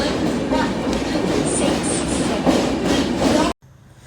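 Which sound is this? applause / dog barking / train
train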